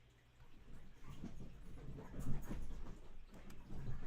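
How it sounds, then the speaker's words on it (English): Dogs whimpering and whining faintly in a room, soft irregular cries rising and falling over a low background hum, with no talking. "Yo, dogs. Chill out, please."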